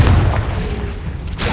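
A Confringo spell blast in Hogwarts Legacy gives a single deep, booming burst, close and loud, with a rumbling tail that fades over about a second.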